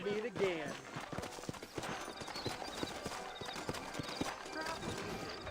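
Horses' hooves clip-clop at a steady walking rhythm in Red Dead Redemption, set in New Orleans, with a short whinny near the start and voices talking over the hoofbeats.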